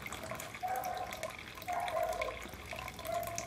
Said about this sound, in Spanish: si quiero más alto el chorro, ahí se queda. Les genera más burbujas, más movimiento de agua,